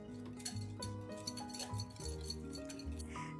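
A spoon clinks against a bowl while mixing masala powder and Kashmiri red chilli powder, a series of light metallic taps and rings over soft background music.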